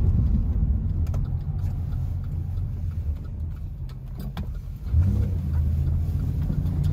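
A 2011 Chevy Impala police package sedan drives along with a steady low engine and road rumble, a soft-riding interior hum that briefly dips, then swells a little louder near the end, with no talking.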